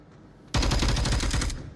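A burst of gunfire in Onward VR aimed at a flashlight, with a sudden loud volley of quick rapid shots close by after a quiet start, fading slightly toward the end.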